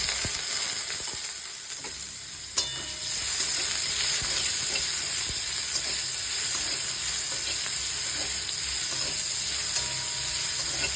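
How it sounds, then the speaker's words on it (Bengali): Onions sizzle and fry in a hot pan with a steady hiss, after a single clatter early on. "এইবার আমি পেঁয়াজটা দিয়ে দেবো"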